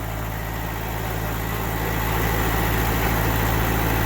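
Kioti DK45S tractor, abandoned three years outside in weeds at a golf course, its diesel engine running steadily with a loud throbbing idle that swells slightly toward the end, no talk.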